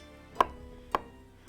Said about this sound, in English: So right, so let's dice this up.